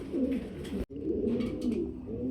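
Pigeons kept on a breeding farm coo in low, rolling calls that carry on throughout, close and fairly loud, with a brief sharp break near the middle.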